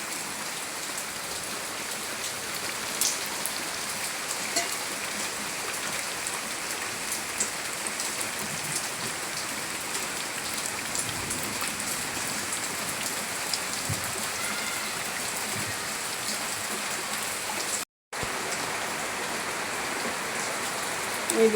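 Heavy rain pouring into a courtyard, a dense steady hiss of drops on surfaces and pooled water that holds for the whole stretch except one sudden brief dropout.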